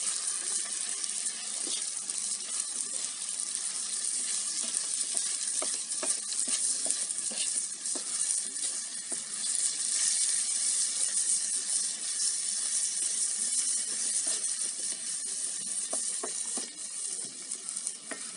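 Salted beef for sac kavurma frying on a hot sac pan, a loud continuous sizzle with hissing steam and repeated scraping stirs as the meat is tossed, close up and without talk.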